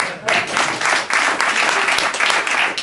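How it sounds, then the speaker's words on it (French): An audience at an improv theatre festival bursts into applause, a brief, fairly loud wash of clapping that swells and holds across the clip. "On peut l'applaudir."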